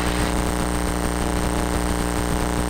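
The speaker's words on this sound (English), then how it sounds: "I'll rev the engine up when I get in front of the hangar." Steady, loud droning of a small airplane engine revving close by in front of an airport hangar, a continuous propeller hum without pauses or voices.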